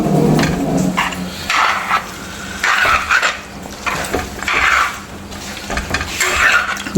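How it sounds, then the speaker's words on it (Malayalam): Chicken curry made with a roasted-coconut paste is stirred in a pot after water is added, giving repeated wet scraping and sloshing strokes at a steady rhythm with no one talking. "ആവശ്യത്തിന് വെള്ളം ചേർത്ത് നമുക്കൊന്ന് ഇളക്കി കൊടുക്കാം"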